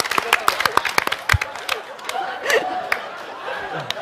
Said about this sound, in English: Why are y'all clapping?